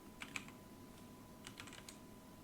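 Quiet typing on a computer keyboard while entering a search term, a few soft scattered key clicks in two small bursts over a low steady background hum.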